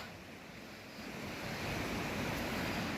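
A river in Devon flows with a steady, broadband rushing wash of water, close and continuous, growing slightly louder midway through with no voices present.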